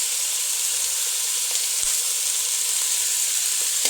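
Food frying in a pan while crab sukka is cooked with salt and turmeric powder, a steady, close sizzle and hiss running throughout with faint stirring touches and no voices.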